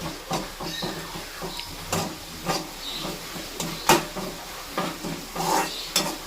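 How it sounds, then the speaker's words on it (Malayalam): Oil crackles and sizzles with sharp, irregular pops and snaps as papad fries, steady and fairly close throughout. "ഇത് വറുക്കാൻ പോണ പപ്പടം"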